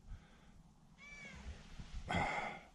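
A cat meows on a snowy-day roadside, a short faint call followed by a louder, longer meow, with outdoor rumble underneath.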